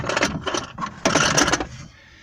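Air pump on a BMW X5 air suspension being lifted off its mounts and shifted aside, giving a close run of clattering, ratcheting mechanical knocks and scrapes in two bursts before going quiet.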